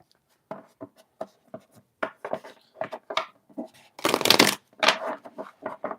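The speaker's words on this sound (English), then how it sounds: "Let me shuffle" A deck of tarot cards is shuffled by hand in quick bursts of riffles and taps, with one longer, louder riffle near the end, close and without talk.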